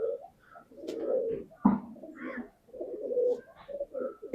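Pigeons cooing in a loft, several soft rounded coos in an uneven rhythm at close range, with a brief flutter or knock midway and no talking.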